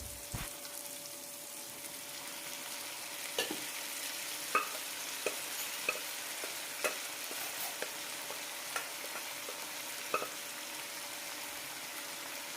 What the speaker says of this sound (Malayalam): നന്നായി മിക്സ് ചെയ്ത ശേഷം വേവിച്ച് വെച്ച ചക്കക്കുരു ഇടാം.